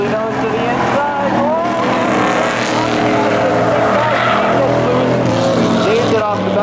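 An 84 Chevrolet Camaro in spectator drags at Seekonk Speedway roars loudly at full throttle, its engine note rising and falling as tires squeal through a slide, with an announcer commentating over the steady racket.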